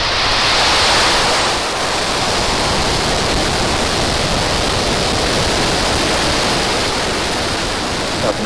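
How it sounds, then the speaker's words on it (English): A SpaceX Falcon 9 rocket roars just after liftoff as it climbs downrange. The sound is a loud, continuous broadband rumble that stays steady throughout, with no voices. "Falcon 9 pushing down range."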